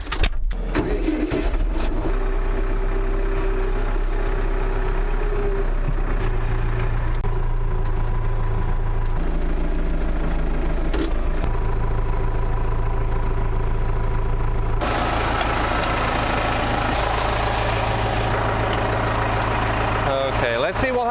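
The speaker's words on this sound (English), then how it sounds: "Let's see how easily it moves with the tractor." Tractor engine runs steadily while moving a log at an off-grid cabin site, a loud close diesel drone that shifts pitch as load changes and revs up near the end.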